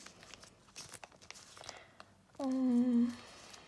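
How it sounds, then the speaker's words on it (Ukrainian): Paper surprise packets crinkle and crunch as they are handled, a run of sharp, uneven rustles that gives way to a louder sustained tone near the end. "Так гарно хрущать пакети, а ці також."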